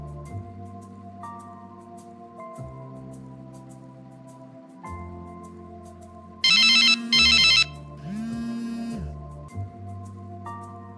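A phone rings late at night with a call from an unknown number: a loud electronic ringtone bursts briefly twice in the middle, set against a soft musical backdrop with no voices.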